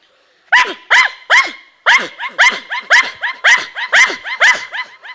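A performer imitates a pet house dog barking, a steady run of about a dozen sharp, loud, evenly spaced barks delivered close by a human voice alone, part of a mock-art show.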